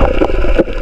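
Underwater boat engine hum from an approaching boat, heard close and loud while diving at night by rocks, a steady low droning rumble with gurgling water.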